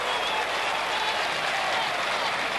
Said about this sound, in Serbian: I dobio aplauz.